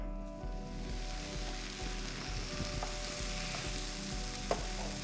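Tinned tomatoes heat toward the boil in a pan for a one-pan shakshuka, giving a steady close sizzle and faint bubbling throughout, with no talk.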